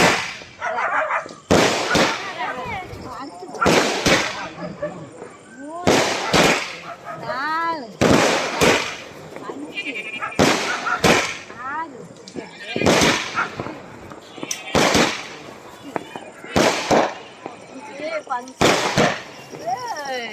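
Loud Diwali firecrackers burst one after another, about a dozen sharp bangs at irregular intervals, with people talking between the blasts.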